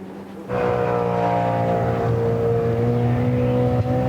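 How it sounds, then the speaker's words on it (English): A GT race car in the Masters GT Trophy at Silverstone enters the pit lane, its engine a loud steady drone that swells in after a quiet start and holds near and constant. "And into the pit lane now comes Robert Fenn"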